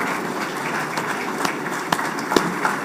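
Audience applause in a hall at an international trade seminar, a steady patter of many hands clapping, moderately loud with a few sharper claps standing out.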